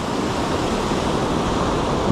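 Ocean surf rolls onto a California shore at a fishing spot as a steady, loud, broadband wash of breaking waves with no pause, sometimes mixed with wind rumble.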